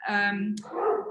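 Dogs barking and yipping indoors close by, a couple of quick overlapping barks and whines heard over a live talk.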